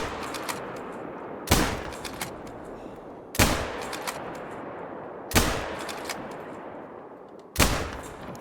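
Four sharp gunshots at a bear during a hunt, evenly spaced about two seconds apart, each a loud crack with a short decay, over a faint steady background.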